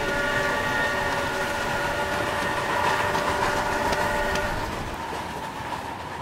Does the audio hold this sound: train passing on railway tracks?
yes